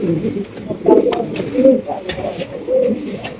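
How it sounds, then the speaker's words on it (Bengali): A pair of large blue magpie pouter pigeons coo in deep, rolling, repeated calls close by, with the low throaty notes overlapping through the whole stretch. "এখানে কিন্তু আমরা আরো এক জোড়া পটার কবুতর দেখতে পাচ্ছি ব্লু ম্যাক পাই পটার কবুতর বিশাল বড় সাইজে"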